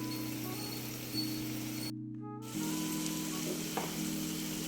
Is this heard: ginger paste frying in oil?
yes